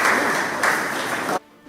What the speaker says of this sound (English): Huge round of applause, guys, for Jamaica.